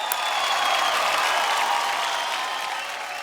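Steady, dense applause from a large audience at an awards show in India, loud and sustained throughout before tapering slightly at the end, with no talk over it.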